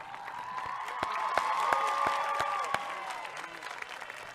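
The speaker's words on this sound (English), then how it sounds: "join me in a big round of applause to everyone who helped you to get through this year" Graduation audience breaking into a round of applause, steady clapping from a crowd with a few sharp claps standing out, moderately loud, with faint cheering and a whistle-like tone over the top.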